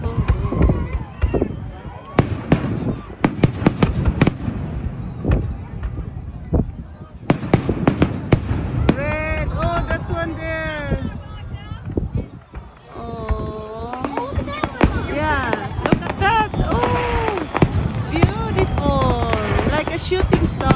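Canada Day fireworks bursting overhead in a 2022 display, with repeated booms and crackles across the clip while excited people talk and exclaim throughout.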